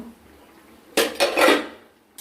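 A metal pot lid clatters and scrapes against a cooking pot of simmering hilsa fish curry, a quick cluster of three bright clanks close by after a moment of near silence, then fading out.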